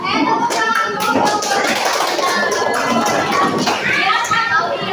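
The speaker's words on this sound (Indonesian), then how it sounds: "Tepuk tangan dulu." Children clap their hands together in a lively, dense burst that carries on steadily, with kids' voices chattering over and around the clapping close by.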